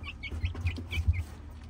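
Hungry backyard chickens clucking close by in a quick run of short, overlapping calls, fairly loud with no one talking.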